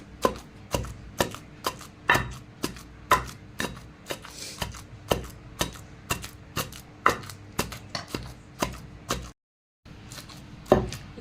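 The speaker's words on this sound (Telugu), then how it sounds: "ఇట్లా దంచుకోవటమేనండి అంటే మొత్తం కలిసేలాగా మెత్తగా దంచుకోవద్దు" A stone mortar pounds gongura chutney in steady, close, sharp thuds about twice a second. A brief silent gap breaks the rhythm before the pounding resumes.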